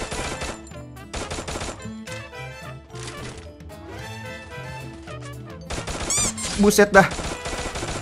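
Rapid gunfire rattles in a Free Fire mobile battle royale match, with bursts of shots layered over game music and effects, and a short spoken exclamation.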